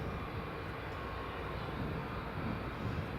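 Saudia Boeing 777 rolling down the runway after landing at Newcastle International Airport, a steady, broad roar of engine and rolling noise holding even and close throughout with no voices.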